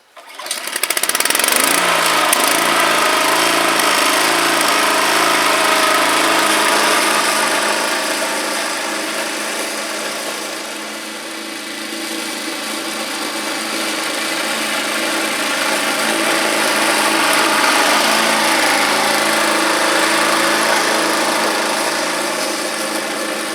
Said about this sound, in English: We'll take the bagger off, do a few passes, and then we'll get the other mower out.